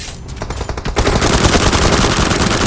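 Sustained automatic gunfire from behind the player in PUBG Mobile, a dense rapid burst growing louder after the first second and continuing steadily to the end, with no talk over it.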